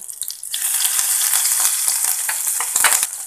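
Mustard seeds, cumin, curry leaves and ginger hit hot oil in a pan with a sudden loud hissing sizzle that stays dense and crackling, with a few sharp spluttering pops, close up and with no talking.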